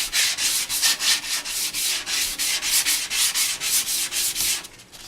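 Hand sanding on a Yamaha FZ600 motorcycle fuel tank before primer, a close, loud rhythmic scrubbing of repeated strokes at a steady even pace with no talking.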